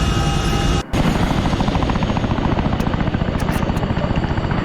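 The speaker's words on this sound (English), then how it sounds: "the helicopter is doing walls and maneuvers in" A helicopter in the military video game ArmA 3 flies and maneuvers with a loud, constant rotor chop and engine roar throughout, with a brief dropout near the start and faint clicks later.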